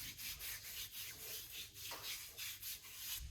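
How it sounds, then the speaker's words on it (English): Hands rubbing ointment onto the skin of a leg over varicose veins, a soft repeated swishing friction in steady back-and-forth strokes, close and fairly quiet, with no talking. "you just rub it on it like this"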